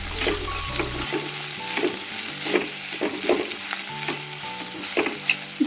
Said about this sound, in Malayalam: അരിഞ്ഞു വെച്ചേക്കുന്ന കോവയ്ക്ക നമുക്ക് ആഡ് ചെയ്ത് കൊടുക്കാം കേട്ടോ. എന്നിട്ട് നല്ലോണം വഴറ്റി കൊടുക്കണം.